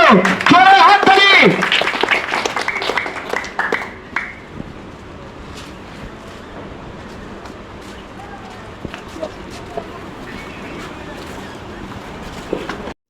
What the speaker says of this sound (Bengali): একটু জোরে হাততালি বলবো দাদার জন্য, জোরে হাততালি